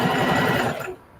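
A sewing machine stitching denim for a blue jean jacket, a loud, close, rapid mechanical whir running steadily for most of a second before cutting off to quiet.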